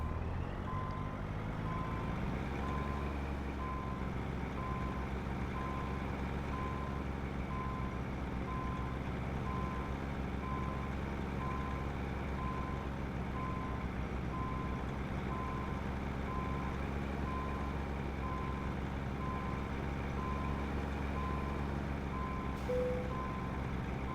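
A short truck in American Truck Simulator backs up with a steady, evenly spaced reversing beep over a constant low engine drone, continuous and fairly loud with no talk.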